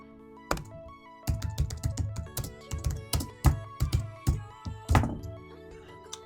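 Loud, deliberate typing on a computer keyboard, close by: after an opening thump, a burst of hard, clacking keystrokes runs in quick uneven clusters, with a few heavier key slams standing out, no voices.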